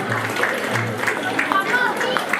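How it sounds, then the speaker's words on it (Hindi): Audience at a Bhagavata katha gathering in a Delhi garden clapping in a busy, continuous patter, with voices and a low hum running underneath. "सभी लोग तालियां हो जाएंगे।"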